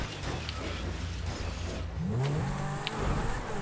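Car engine in GTA V revving hard as a nitro boost kicks in during an online ramp race, a rising whine climbing over a steady roar, close and continuous.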